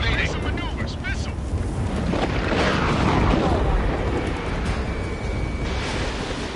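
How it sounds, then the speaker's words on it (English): Missile explosions during an Ace Combat 7 jet dogfight: continuous heavy booming and roaring blasts layered over engine noise, with a high warning tone and brief radio chatter among pilots. "Missile in the air, evading"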